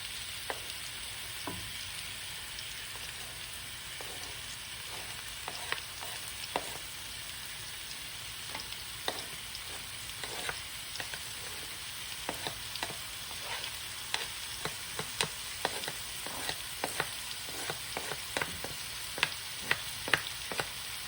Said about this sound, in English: So now I'm going to add my onions and ginger.